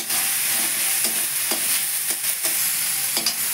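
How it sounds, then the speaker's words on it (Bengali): A masala of fried onion, ginger and garlic is stirred in a pan, steady frying hiss punctuated by repeated scraping strokes of a spatula. "এবার ভালো করে কষে নেওয়া হচ্ছে"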